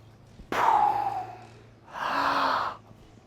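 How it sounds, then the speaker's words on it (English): Deep breath drawn before a Romanian deadlift with a barbell: a sharp, close inhale, then a second long breathy rush about a second later, with no talking. "Take a nice deep breath now"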